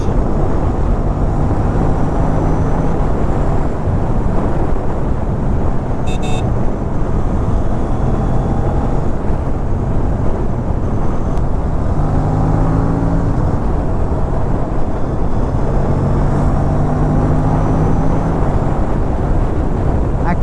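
An Aprilia RS 457 motorcycle fitted with a GPR exhaust, DB killer installed, rides along a highway at night, its engine drone steady and continuous with a few gear-shift changes and wind rush over the microphone.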